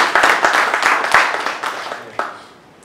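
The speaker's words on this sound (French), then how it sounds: "j'aimerais vraiment un petit banc d'applaudissements pour ma prof de français, ma soeur Ina ici" An audience at a novel signing evening applauds for the author's sister and French teacher, with brisk close clapping that thins out, one last clap, and then fades away.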